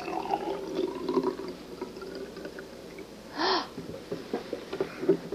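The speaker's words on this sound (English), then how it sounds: "And I pour mine into this cup." Juice is poured into a cup in a short, splashy burst near the middle of the clip, with quiet room noise and faint rustling around it.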